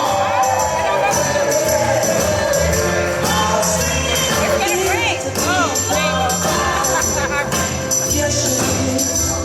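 A crowd cheers and shouts continuously at a party with a big iced cake, loud and dense throughout, with children's voices and whoops rising over the din.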